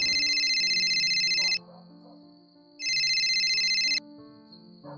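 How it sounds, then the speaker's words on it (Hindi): A mobile phone rings loudly with a synthetic ringtone, two long bursts separated by a short pause, over a soft musical background with no talk. "वेदा जल्दी से बेडरूम में गए जहां उनका फोन बज रहा था।"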